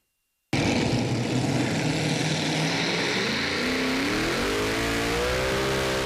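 The Ford Noemi pulling tractor, running four alcohol-fuelled engines at a pulling competition, bursts in after a brief silence with a loud, continuous roar. Its pitch then climbs steadily as the engines rev up.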